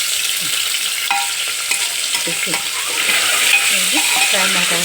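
Egg frying in hot oil for egg biryani, a steady close sizzle with scraping stirring strokes through the pan, no voices.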